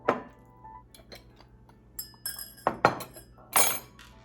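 Royal Albert vintage china clinks as rose tea is served, with several sharp ceramic taps and clatters of cups, saucers and a teapot, close and distinct, a few seconds apart against a quiet room.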